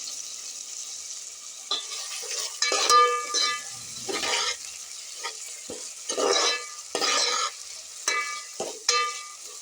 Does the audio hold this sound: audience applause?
no